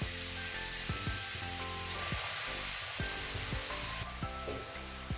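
Grated carrots fry in hot desi ghee in a kadai for gajar ka halwa, a steady sizzling hiss punctuated by repeated clunks of a spoon stirring roughly every half second, no talking.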